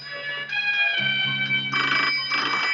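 A telephone rings in a Hindi comedy film scene, giving a steady electronic tone that repeats in short bursts, loud and clear with no talk over it.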